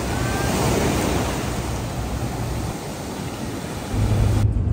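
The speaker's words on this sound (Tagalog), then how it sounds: "Enjoy na enjoy nila yung alon." Ocean waves breaking on the beach at Pensacola, Florida, a continuous loud rushing surf with wind buffeting the microphone and no talking.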